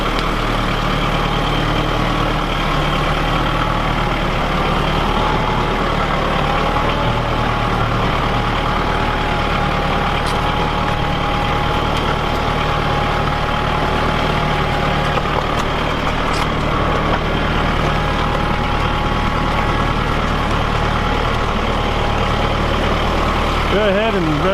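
Steady close-up drone of an LS XR 4040 tractor engine idling and running, low and even throughout with only slight variation.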